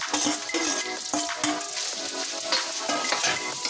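Sliced santol tips into a hot pan of meat for ginataang santol, bursting into loud sizzling frying with scraping stirs and clinks of a utensil against the pan.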